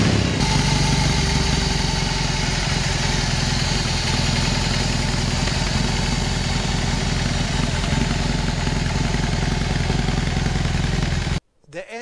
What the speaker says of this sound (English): 1800cc flat twin engine.